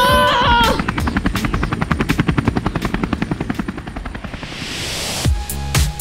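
A helicopter's rotor beats in a loud, rapid chopping pulse close by, holding steady for a few seconds before fading into a rushing whoosh, with no talking.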